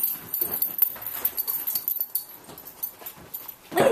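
A dog whimpers and whines in high, thin bursts through a noisy indoor room, close and uneven, the cries coming and going in short strained pulses.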